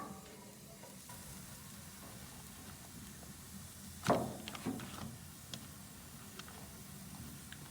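Potatoes frying for breakfast hash in a Wards cast iron skillet, a quiet steady sizzle with a short burst of stirring and scraping midway, no talk.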